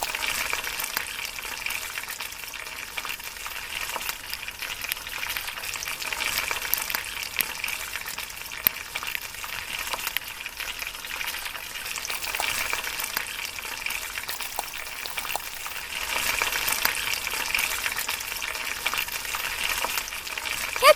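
Onion frying in cooking oil in a tiny miniature pan, a continuous bright sizzle and crackle holding steady throughout, close and even, with occasional faint clicks and no voices.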